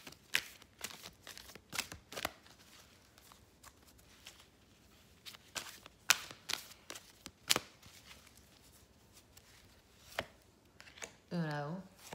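Oracle cards being shuffled by hand in repeated short riffling bursts, crisp and close, separated by quiet gaps, with a brief voice near the end.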